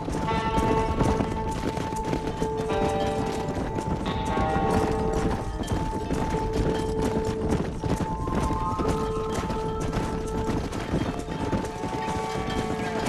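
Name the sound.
horse hooves herding cattle, video game Red Dead Redemption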